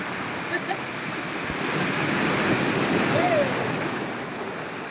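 Sea waves rolling onto the shore, a broad steady wash that swells in the middle and eases off, with faint voices in the background.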